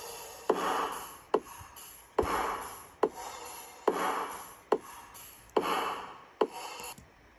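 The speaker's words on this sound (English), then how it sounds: "These are the drums, and they sound like this." Tearout drums in a beat loop, punchy kicks alternating with gritty, scraping snare hits in a steady repeating rhythm, fairly quiet and alone, with no voices.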